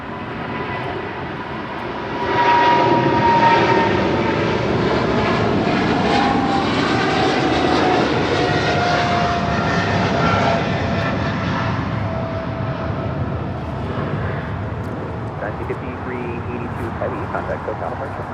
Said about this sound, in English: This is China Airlines Cargo 5382 taking off to Miami, Florida on a 777 freighter.